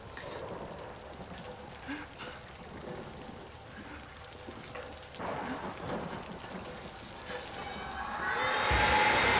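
Stormy weather in the horror game Outlast: dense, steady rain hiss with rolling thunder rumbles, swelling louder and brighter near the end as a heavier crash of thunder arrives, with no talking over it.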